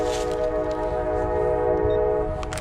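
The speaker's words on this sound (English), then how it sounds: "There's a train coming up the hill." A train working its way up a hill, heard from a wooded hillside as a steady, sustained horn-like drone with rumbling underneath, holding at an even loudness throughout.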